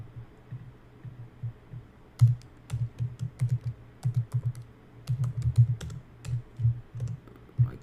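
Close keyboard typing on a faulty computer keyboard in uneven bursts, key taps clicking at a steady clip with short gaps, alone in a quiet room.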